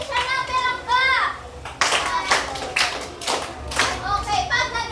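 A class of children claps together in a classroom during a demonstration lesson, with bursts of clapping between a teacher's speech and children's voices.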